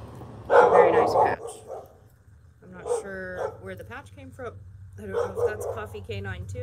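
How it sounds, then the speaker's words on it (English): A neighbor's dog barks in the distance in a few short bursts, the loudest early on, while a person nearby keeps talking over and between the barks. "That's my neighbor's dog barking."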